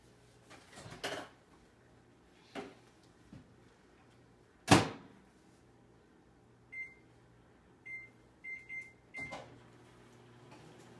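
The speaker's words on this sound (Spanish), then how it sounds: "Ahora la voy a poner a calentar en el microondas para que llegue la temperatura y se derrita." Kitchen sounds around a microwave oven heating an ingredient to melt it: several knocks and clunks of its door being shut, then a run of short electronic beeps from the keypad and timer.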